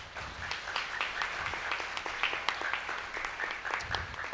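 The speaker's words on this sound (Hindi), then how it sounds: "यीशु का स्वागत करें तालियों के साथ" A church congregation at a Hindi-language sermon claps in welcome, a dense, steady wash of many hands with sharp individual claps poking through, sustained evenly throughout.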